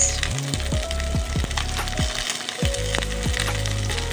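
Long-cut carrots, beans and cubed capsicum frying in a pan for a mixed vegetable curry, a loud continuous sizzle broken by repeated scraping stirs and clanks of a spatula.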